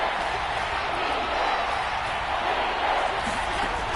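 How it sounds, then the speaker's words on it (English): Dense, steady roar of a stadium crowd in a football video game, loud and continuous throughout with no break, rising slightly in places while a commentator's voice sits faintly under it. "That just means this crowd's going to get even louder."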